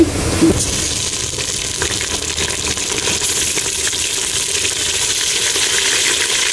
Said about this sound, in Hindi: अब ये थोड़ा ब्राउन हो जाए फिर मैं इसमें गोश्त डालूँगी